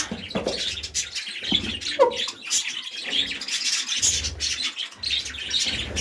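Parrots and their chicks squawk and chirp continuously in a crowded parrot room, a dense, close chorus of harsh calls and tweets with no pauses.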